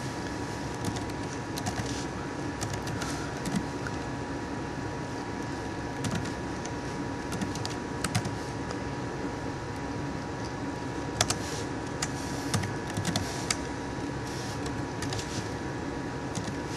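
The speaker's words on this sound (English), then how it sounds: "I'm just typing it in." Someone types steadily on a computer keyboard, with scattered soft clicks and occasional louder taps over a constant low hum, quiet and close, with no talking.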